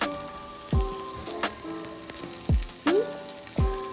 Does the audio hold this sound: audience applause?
no